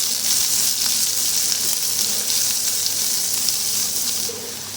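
Chopped onions sauté in hot oil in a pan, giving a dense, even, close sizzle that holds steady before dropping slightly in level near the end; no talking.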